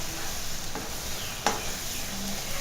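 A ground coconut, jaggery, rice flour and cardamom mixture being stirred in ghee for a sweet, a faint hissing sizzle with an occasional clink of a spoon and no voices.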